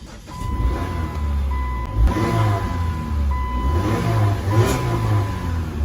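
Car engine started with the gas pedal pressed halfway on a stock exhaust, a loud steady low rumble that idles on, with a faint tone over it.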